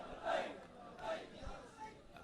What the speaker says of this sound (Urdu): لبیک کا نعرہ